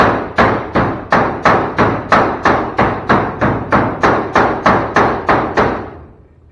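A hammer pounds rusty metal on a 1957 Chevy front clip in a steady series of about sixteen loud, evenly spaced blows, each ringing briefly before the next.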